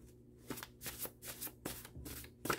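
Tarot cards being shuffled in several quick riffling bursts, each a crisp flutter of paper, close and fairly quiet with short pauses between.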